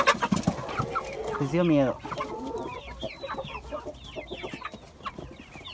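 Chickens cluck and chirp in short scattered calls, starting under a voice and continuing more faintly on their own afterward.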